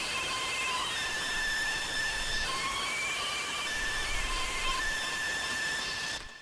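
A glitchy electronic melody pitched up an octave, noisy and hissy, with high tones gliding and stepping over a constant wash of noise until it cuts off near the end.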